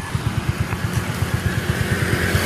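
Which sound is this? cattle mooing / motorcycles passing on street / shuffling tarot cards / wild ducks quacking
motorcycles passing on street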